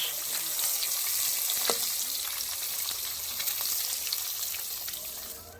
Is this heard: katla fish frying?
yes